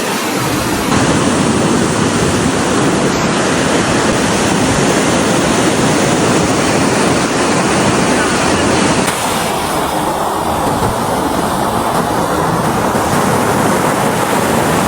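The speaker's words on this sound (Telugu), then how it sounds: "అలలు కూడా చాలా బాగా వస్తున్నాయి." Ocean waves breaking on a beach at Mypadu, a steady loud roar of surf with continuous rushing wash and some wind, no talking.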